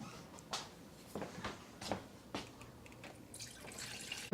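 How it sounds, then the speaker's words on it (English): Tap water runs into a kettle for cake-baking prep, heard faintly as a soft trickle with a few distinct drips and clinks, rising toward a steadier pour near the end. "put the water in the kettle back here"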